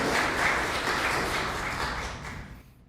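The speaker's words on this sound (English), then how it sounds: "let's have a big round of applause for our speakers who are in the audience this morning." An audience at a church service applauding steadily, dense clapping that fades out toward the end, with no voices over it.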